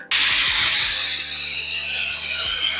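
A pressure cooker of lentils vents steam in a sudden loud hiss that starts sharply and holds strong, a bright continuous rush with faint rattling underneath.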